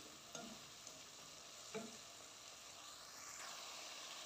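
Masala roasting in a pan for a dhaba-style spiced cauliflower curry, a steady low sizzle with a few soft scraping stirs, fairly quiet and without talk.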